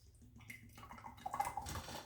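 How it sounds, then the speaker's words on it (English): Berry citrus blender drink poured from a blender container, a soft liquid trickle and drip building in the second half, close and faint with no talk over it. "And then I'm about to pour."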